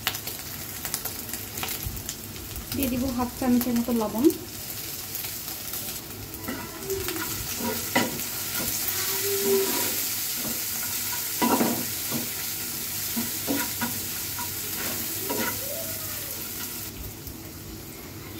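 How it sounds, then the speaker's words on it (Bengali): A pan of food sizzles steadily on a home kitchen stove as a spoon stirs and scrapes it at intervals; someone talks briefly over it, and a pigeon coos faintly in the background. "একটু ভালো করে ভেজে নেব।"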